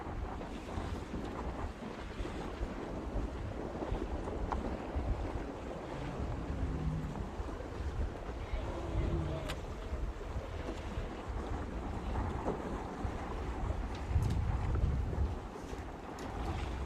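Steady strong wind roars at sea around a junior 420/470 sailing championship off Vilamoura, Portugal, with buffeting gusts against the microphone and a wash of waves beneath, continuous and close throughout.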